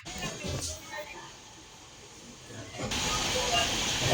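The Puri–Koraput train pulls out of the station with a broad, steady rumble and hiss. The noise builds to a louder, continuous roar of moving carriages.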